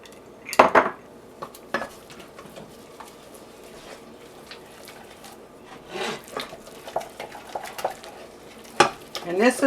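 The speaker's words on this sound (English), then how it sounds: "this is the part that gives you your arm exercise, where you beat in those eggs" Eggs beaten one at a time into hot cream puff dough in a pan, heard as irregular scraping, knocking and stirring clatter of a spoon against the pan, with louder bursts near the start and end.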